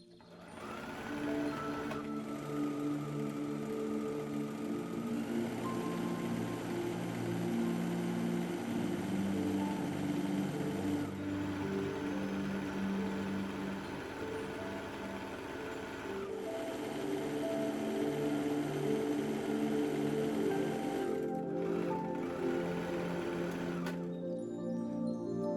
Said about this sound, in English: using a stretch stitch you want to sew these two pieces together